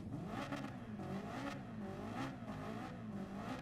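A racing car engine in Gran Turismo 7 drones and revs continuously at a moderate distance, its pitch wavering up and down through gear changes, with no talking.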